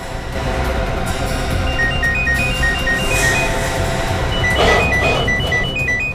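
A mobile phone rings with a repeating electronic melody of short tonal beeps, sounding amid a tense hideout standoff over steady background noise and a brief rustle.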